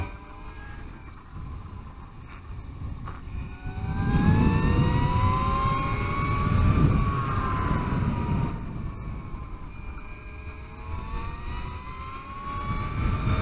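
A Greenger G3S minisumo kart runs on a dry kart track, its engine whine rising and falling steadily for several seconds, getting louder mid-pass as it speeds along a straight, with no voices over it.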